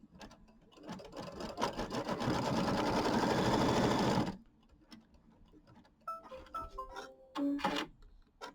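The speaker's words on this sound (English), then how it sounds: "Then I'm going to stitch this line." A domestic sewing machine stitches a line across a pieced quilt block in one loud, close, steady run of about three seconds, then stops, followed by quieter clicks and handling sounds of the fabric.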